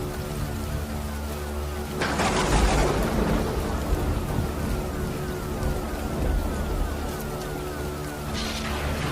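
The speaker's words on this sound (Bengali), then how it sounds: "বৃষ্টি তখনও সমান তালে হয়ে চলেছে" Heavy rain pours steadily throughout, with a loud surge of rainfall and a rumble of thunder around the second mark and another burst near the end, with no voices.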